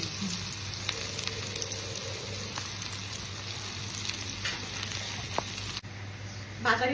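Whole garlic cloves and chopped onion frying in mustard oil, a steady close sizzle and crackle with occasional stirring scrapes and a brief clatter near the end.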